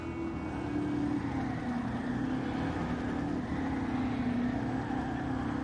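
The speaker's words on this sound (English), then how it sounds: "I'm driving a 1932 Ford Roadster on its original suspension with no weight reduction" A 1932 Ford Roadster on original suspension racing in Gran Turismo 7 gives a steady, droning engine tone at sustained revs, with a faint pitch waver and no voices.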